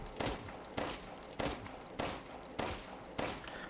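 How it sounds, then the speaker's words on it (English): Six evenly spaced, sharp gunshots ring out one after another in Resident Evil Village as bullets are fired into a wall, each crack followed by a short reverberant tail, fairly loud and without talk. "now we shoot all of our bullets into the wall"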